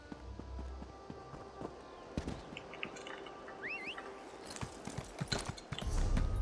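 Horse hooves clopping at a brisk pace, with a short bird-like chirp and other Elder Scrolls Online game sounds mixed in.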